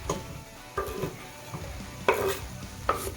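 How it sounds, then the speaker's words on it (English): Garlic and carrots sizzling in a hot pan, with a few sharp clattering bursts as ingredients and a utensil hit the pan. "I'm going to go ahead and just get this in the pan. Oh, listen to that sizzle"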